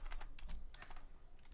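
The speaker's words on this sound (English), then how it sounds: "I'm typing in here." Rapid clicking of keys on a computer keyboard, a close burst of uneven taps with a brief pause midway, during a Roblox Arsenal livestream.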